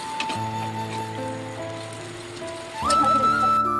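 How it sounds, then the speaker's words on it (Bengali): Heavy monsoon rain falls outside a home kitchen as a steady wash of noise, with a low mechanical hum running beneath it that grows louder near the end. "আর বাইরে ভীষণ বর্ষা হচ্ছে, আমার কথা হয়তো শুনতে পাবে না তোমরা।"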